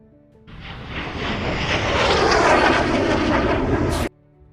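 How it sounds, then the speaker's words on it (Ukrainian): An airplane roars past, a steady broadband engine rumble swelling in, holding loud for several seconds, then cutting off abruptly. "До транспорту, який пересувається в повітрі, відноситься літак."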